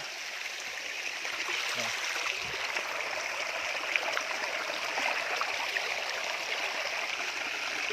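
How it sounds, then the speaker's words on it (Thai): A steady, broadband rush of a natural waterfall in the mountains of Chanthaburi, Thailand, constant and fairly close, with no voices. "นี่นะครับ น้ำตกธรรมชาติ"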